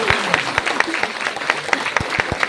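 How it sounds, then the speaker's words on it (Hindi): Audience applause at an awards presentation honoring a Green Diamond Crown achiever, with sharp claps and a few loud strikes standing out over a steady crowd patter, continuous for a couple of seconds. "75 लाख का ताली होना चाहिए ना"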